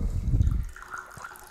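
Stolichnaya vodka pours into a glass with a short, close, low gurgle that fades after about half a second, leaving quiet room noise.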